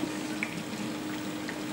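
A Samsung DMT400 dishwasher runs with a steady, muffled wash of water splashing inside. The sound is soft and continuous, with no voices.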